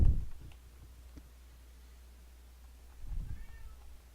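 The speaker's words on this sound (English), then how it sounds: "I'm guessing you can hear my cat because he's very loud." A cat meows twice, a short call at the start and another a few seconds later, nearby against a quiet background.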